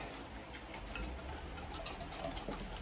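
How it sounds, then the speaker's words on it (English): A metal whisk beating through lumpy chickpea batter in a bowl, a steady busy clatter and scraping throughout, close and continuous with no talking. "See if I can break up a few more of those lumps with my metal whisk."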